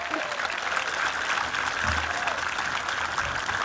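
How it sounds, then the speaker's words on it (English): Applause from a crowd at a Crooked Billet Day gathering in 2018, a steady wash of many hands clapping at moderate distance for a few seconds, with faint voices mixed in. "We'll give him a round of applause."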